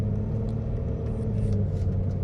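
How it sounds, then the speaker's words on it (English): Steady road rumble from inside a 2010 Mercedes-Benz GL350 on a drive in traffic, a continuous low engine and tyre drone with faint passing-car swells, no talking. "A lot of traffic right now."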